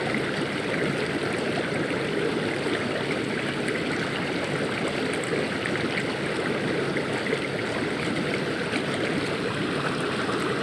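Water sprays and splashes from a swimming pool filter in a steady, loud rush, continuous and unbroken, like a strong jet falling into a pool.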